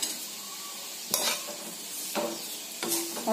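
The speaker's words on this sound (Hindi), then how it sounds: "सिवई डाल के सिवई को अच्छी तरह से भून लेंगे" Vermicelli roasting in ghee in a pan for kimami sewai, with a steady soft sizzle and three sharp scraping stirs of a spoon, close up and without talk.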